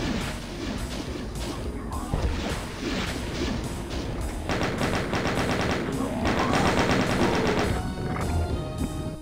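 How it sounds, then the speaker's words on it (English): Rockets and rapid gunfire in Doom against Mancubi, dense bursts of shots and blasts in fast succession with crashing impacts and game music under a voice talking. "Mancubus is behind us. Mancubi! Oh shit, nice. Rockets to them."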